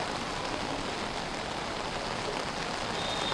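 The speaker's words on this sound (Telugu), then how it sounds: "హైదరాబాద్ నగర వ్యాప్తంగా ఒక్కసారిగా భారీ వర్షాలు కురుస్తున్నాయి." Heavy rain pouring down across Hyderabad's Srinagar Colony, a dense, steady broadband hiss that stays loud and unbroken throughout, with no voices over it.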